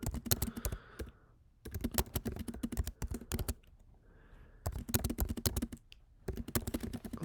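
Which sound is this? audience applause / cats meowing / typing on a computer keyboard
typing on a computer keyboard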